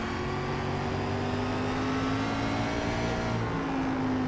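Stock race cars roar steadily at Oxford speedway, a loud continuous engine drone with a rising pitch as the pack runs close together, and no voices over it.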